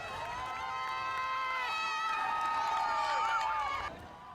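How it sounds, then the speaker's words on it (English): A roadside crowd cheers on Rwanda's national team during the Tour du Rwanda cycling race, with steady, dense shouting and high whistles or voices held throughout before easing off near the end. "Many here cheering the national team"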